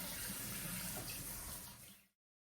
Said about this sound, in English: So this is where I'm going to wash my hair